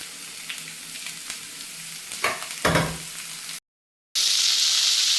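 Vegetables including capsicum, tomato and spring onion sizzle in a pan on low heat, a steady hiss with a few stirring scrapes, a brief cut to silence, then a louder sizzle.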